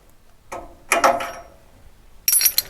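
An open-ended spanner works loose a threaded exhaust lambda sensor on a Lotus Evora, giving a few short metallic ratcheting clicks and scrapes in close, quiet bursts with pauses between.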